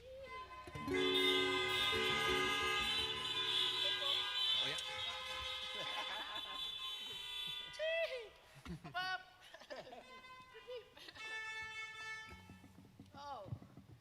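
Car horns blare from the audience at an outdoor concert on Maui, with long sustained honks layered together early on, then scattered shorter toots among cheers and a voice over the crowd.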